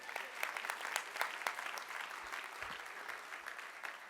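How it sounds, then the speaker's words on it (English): A conference audience at a National Action Network event claps steadily, sharp individual claps standing out in a moderate, slightly distant round of applause. "Give them a round of applause."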